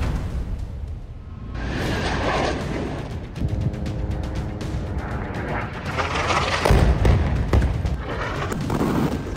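Missile strikes in Gaza, with heavy booming explosions and rumbling blasts that swell and roll on over a continuous loud roar, some sharp cracks mixed in, no talking.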